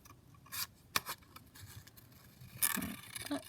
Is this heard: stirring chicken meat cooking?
no